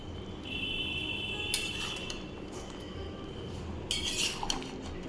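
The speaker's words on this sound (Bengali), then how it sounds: "সবজিগুলো একটু যখন নিচে নেমেছে, আলু মিক্স করে দিলাম" A utensil scrapes and clinks against a pan while half-fried potatoes are mixed into vegetables, with a couple of brighter metallic clatters over faint steady background noise.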